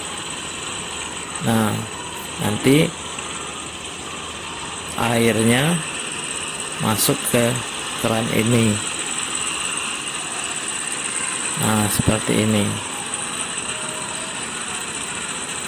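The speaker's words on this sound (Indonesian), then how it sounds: "Ini lagi ngidupkan mesin, terus memasukkan tebu yang dipotong tadi." A sugarcane juice press machine runs as cut sugarcane is fed through it at a roadside iced-drink stall. Its steady mechanical hum and whine continues throughout, with someone talking intermittently over it.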